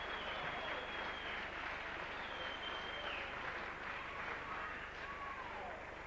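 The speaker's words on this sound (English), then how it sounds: "Deserved applause for Gibson." Crowd applause after a Salford try at a rugby league match against Whitehaven, a steady wash of clapping and cheering from a distant stadium crowd that holds level throughout without any clear speech.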